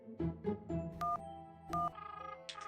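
Cartoon telephone being dialed, a quick run of tonal keypad beeps followed by two long electronic ring tones and a short warbling burst, clear and close with no talking.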